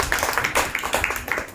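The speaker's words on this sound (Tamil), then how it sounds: "கைத்தட்டி ஆண்டவர் மையப்படுத்துகிறோம்." A church congregation claps hands during a Palm Sunday sermon, a quick run of sharp, close claps in an uneven rhythm across a brief moment.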